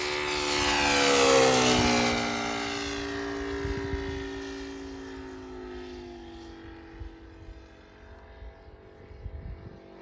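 A radio-controlled Aeroworks Yak 55 airplane with an ASP 400 radial engine passes at full power, its steady droning whine swelling as it comes near and then falling in pitch as it flies away, with nothing else audible.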